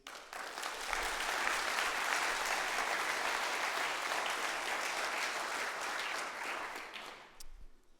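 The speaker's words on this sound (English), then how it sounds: "So another round of applause, please." A conference audience applauds the event's sponsors, a broad, sustained round of clapping that swells quickly, holds steady for several seconds, then tapers off into a few scattered final claps.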